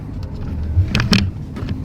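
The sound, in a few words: cars in a traffic jam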